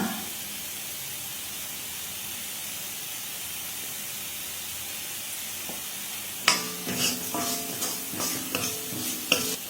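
Spices with coriander powder and chili powder are stir-fried in a pan for an Indian mother-in-law's recipe. A steady close sizzle hisses alone, then sharp, irregular scraping clinks of stirring break in over the frying.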